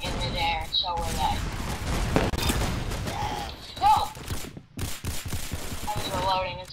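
Rapid bursts of gunfire in a Roblox shooting game, with several clusters of shots spread through the moment, heard alongside occasional game sounds and talking.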